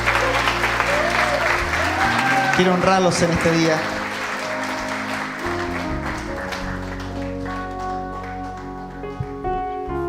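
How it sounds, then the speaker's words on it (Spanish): A church congregation applauds two pastors called to the front, with loud, dense clapping over music that eases off after a few seconds while someone speaks over it. "Damos un aplauso a los pastores."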